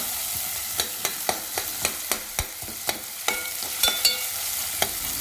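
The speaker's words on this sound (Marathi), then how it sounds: "कांदा शिजू द्यायचा" Onion cooks in a pan for a prawn curry, with a low background sizzle broken by a regular series of sharp taps and scrapes of stirring, close and without talk.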